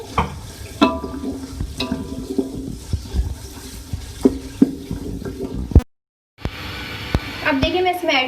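Ginger garlic paste with salt fries in a cooking pot, giving close sizzling and scraping stirring sounds with a brief silent gap, and someone talks over it.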